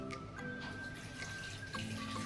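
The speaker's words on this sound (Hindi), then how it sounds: "अब इसमें डालिए लगभग" Water streams steadily into a pressure cooker holding halved large potatoes for aloo and arbi sabzi, a faint, even pour with no talking.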